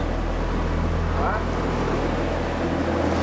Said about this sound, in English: I heard the roar of a boat again